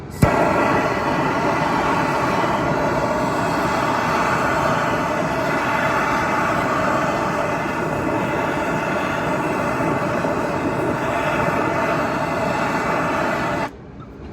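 A MAP gas torch preheating a cracked wheel before welding, heard as a loud, steady roaring hiss that runs unbroken for most of the time and then cuts off near the end.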